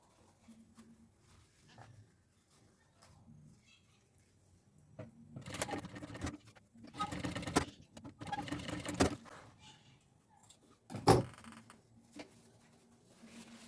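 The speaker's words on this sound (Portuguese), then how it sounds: "e vou costurar essa tira nessa extremidade" A domestic sewing machine stitches a fabric strip onto an executive bag in several short bursts of motor whir, each lasting a second or two, separated by quiet handling noises, all close-up with no talking.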